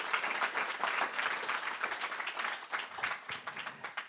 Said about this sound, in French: sous vos applaudissements nourris